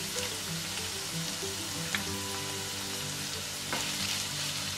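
Garlic is added to softened onions and sizzles steadily in a pan over medium heat, with faint stirring clicks above a continuous hiss. A low hum runs underneath, and no one talks.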